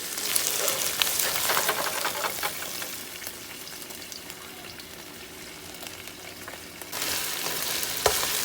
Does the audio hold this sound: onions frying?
yes